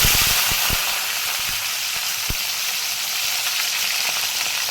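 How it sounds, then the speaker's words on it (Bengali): Dried loitta fish (Bombay duck shutki) frying in hot oil in a pan, a steady close hiss with a cluster of sharp pops and crackles early, then a continuous even sizzle. "মাছটা দিয়ে ভালো করে ভাজবো"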